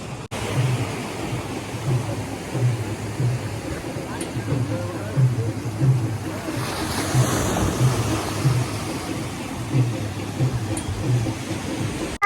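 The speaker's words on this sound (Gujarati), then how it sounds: "અને આ છે ગોમતી ઘાટ" Sea surf at Gomti Ghat in Dwarka, where the Gomti river meets the sea, a continuous broad wash of waves with wind under a steady rhythmic low thumping, likely a boat engine, all at moderate level.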